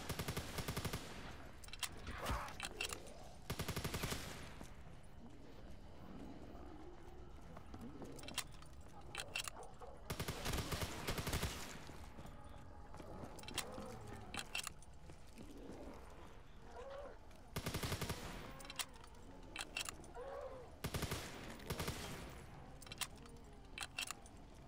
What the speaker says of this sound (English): They went back to the MG42 to use as their death machine, which is actually amazing.